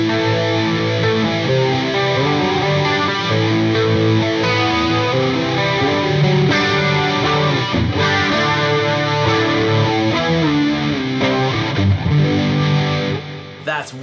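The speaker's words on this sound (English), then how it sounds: "we've got this flanged, distorted, and delayed path going into the front of that Fender" An electric guitar plays through a HeadRush flanger, distortion and delay chain into the front of a Fender amp, giving a loud, continuous, sweeping, smeared tone with sustained chords and no talk.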